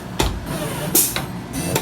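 A mat cutting machine cuts a picture-frame mat, making a steady mechanical whir with several short, sharper bursts as the cutting head moves.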